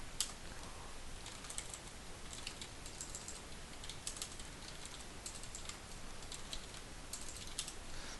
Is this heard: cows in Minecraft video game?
no